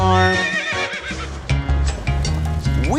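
A cartoon horse in a children's farm song neighs with a high, wavering whinny over bouncy music, with a voice partly imitating the neigh.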